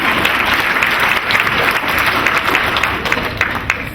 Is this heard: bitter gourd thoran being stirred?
no